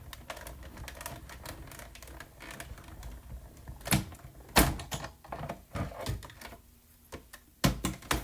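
A 3D embossing folder with cardstock is cranked through a hand-cranked embossing machine using a base plate: irregular ratcheting clicks and creaks, with a few louder clunks as it rolls through, no talking.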